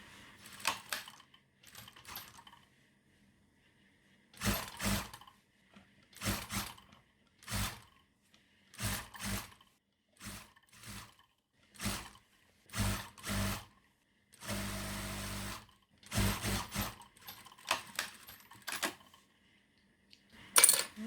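Sewing machine stitching a trouser seam in short bursts, each run of rapid mechanical clatter separated by pauses, close and fairly quiet, no voices.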